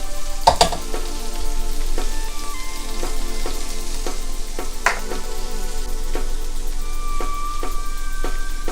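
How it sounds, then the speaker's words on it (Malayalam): Cabbage and carrot thoran with grated coconut sizzles in a pan as it is stirred, steady frying hiss punctuated by scraping clicks of the spoon against the pan, close and fairly loud. "അതിനുശേഷം നന്നായി ഒന്ന് ഇളക്കുക."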